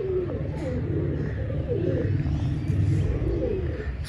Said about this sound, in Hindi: सादी सी कबूतरी है दोस्तों।